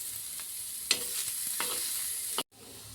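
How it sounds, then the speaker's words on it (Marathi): Masala with ginger frying in a pan gives a steady close sizzle, with a few scraping stir strokes across it before the sound cuts off abruptly near the end. "आता त्याला थोडं हलवून घ्यायचं आपण। फक्त 5 मिनिटांमध्ये आपला मसाला भुजून तयार होतो।"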